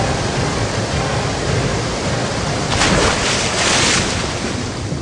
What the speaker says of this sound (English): Ah! Giant waves! Everywhere! From all directions!